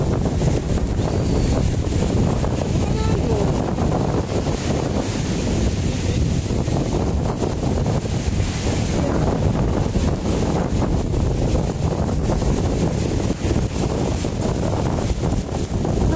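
Strong wind buffets the microphone in a constant roar, with heavy ocean waves crashing and surging underneath on Boracay in Aklan, Philippines, loud and continuous.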